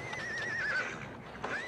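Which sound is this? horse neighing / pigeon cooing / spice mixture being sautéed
horse neighing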